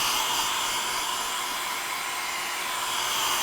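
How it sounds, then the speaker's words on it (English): A blow dryer runs steadily and loudly close by, a continuous airy roar that holds unchanged throughout with no voices over it. "I'm sorry this is so loud with this blow dryer"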